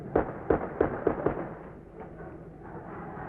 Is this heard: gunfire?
yes